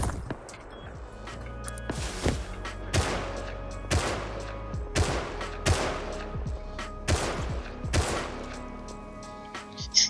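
Automated turret loaded with a semi-automatic rifle firing in the survival game Rust: a steady series of about eight sharp, loud single shots spaced roughly a second apart, with no talk.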